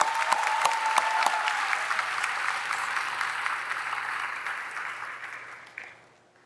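A large audience at a Carnegie Mellon orientation convocation applauds warmly, sustained dense clapping with a few sharp claps early, gradually fading out near the end.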